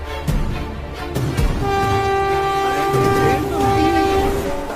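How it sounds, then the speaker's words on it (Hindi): A passenger train in a cartoon passes without stopping, with a loud, sustained, close horn blast over steady rumbling and rattling wheels. "अरे ये ट्रेन तो रुकी ही नहीं"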